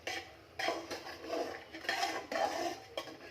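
Potatoes and mutton tipped into spices in a pan, with a few close metallic clanks and scrapes of a spoon against the pot over a soft background hiss.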